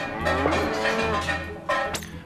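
A cow moos in two or three low, drawn-out calls, close and fairly loud, with short pauses between them.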